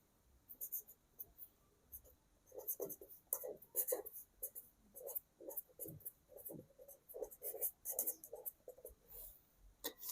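Pen scratching on paper in soft, quick strokes and bursts, close and quiet, as a rectangle's area is worked out in a math lesson, with no talking over it.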